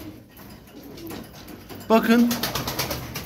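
Loft-bred pigeons coo nearby while someone speaks briefly over them, with a louder burst of cooing and rustling in the second half.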